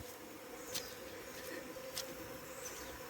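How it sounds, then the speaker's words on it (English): Faint buzzing of honey bees around a sugar syrup feeder, a soft constant hum with a few brief louder buzzes as individual insects pass near. "the bees are feeding on it very nice."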